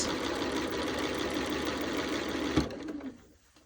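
A sewing machine stitches quilt block fabric to the end of a seam, a steady close mechanical whir running continuously before stopping abruptly and winding down.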